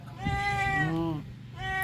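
A cat meows up close, two drawn-out, loud cries with a short pause between them.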